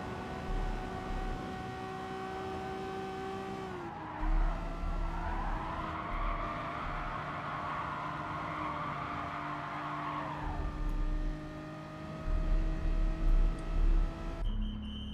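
Race car engine in the GT Sport video game holding a steady drone as it drives into the pits, slowing with a brief tire rasp partway and rougher revving near the end; no talk.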